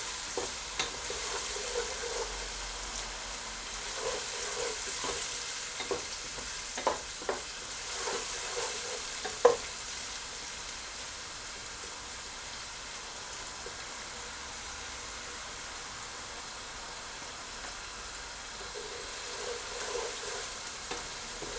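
Onions frying in a pan for dhaba-style daal chana, a soft continuous sizzle with scattered stirring clicks and scrapes in the first half, then settling into an even, quiet hiss.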